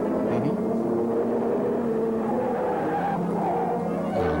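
A car skids hard with a sustained, loud tire squeal in a film scene, the screech holding steady over engine noise for several seconds.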